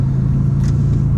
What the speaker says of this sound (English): Especially with this exhaust. I mean, dang, this thing sounds good.